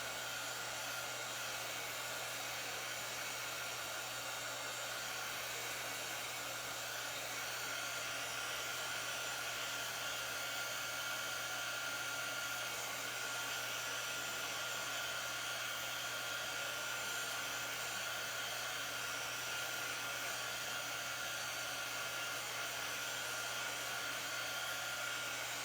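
A hair dryer or heat gun runs nonstop for the whole stretch while paint dries, giving a steady, even whir and blowing hiss with a low motor hum and no pauses.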